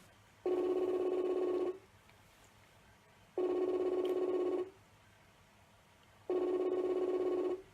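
Three evenly spaced ringback tones, each a steady buzzing tone lasting over a second, separated by quiet pauses, like an outgoing call waiting to connect.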